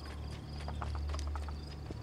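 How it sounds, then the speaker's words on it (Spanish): A horse's hooves clip-clop in a steady walking rhythm in Assassin's Creed 2, moderately close but fairly quiet over a low continuous ambient hum, with no talking. "Me está siguiendo el caballo, no sé por qué"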